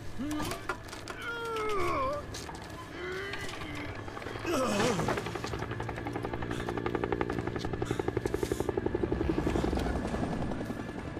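Helicopter in the video game Days Gone, a steady rotor drone building into rapid, loud blade chop near the end, with game character voices and a person talking over it.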